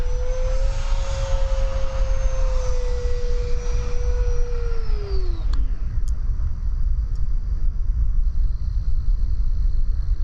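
A Freewing F/A-18C 90mm electric ducted-fan RC jet whines loudly overhead with a steady high tone that dips and fades after about five seconds, over strong wind rumble.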